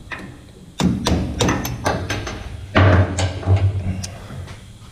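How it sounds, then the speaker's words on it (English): A hammer strikes the solenoid cap on a Fox Live Valve shock from a Ford Raptor, giving several close metallic taps and heavier thuds in an irregular series, alone without talk. "So now I can just should be able to hammer this thing right off of here."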